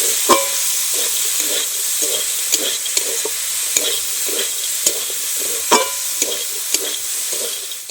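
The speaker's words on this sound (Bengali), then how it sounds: "এবার খুব ভালো করে আমি কষে নেব।" Winter vegetables stir-fry hard in a pan, a steady loud sizzle broken by regular scrapes and knocks of the spatula stirring, close up and with no talking.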